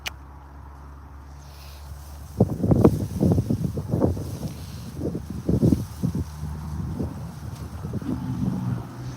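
Gusty wind by the Deschutes River buffets the microphone in irregular rumbling bursts over a low, steady outdoor background.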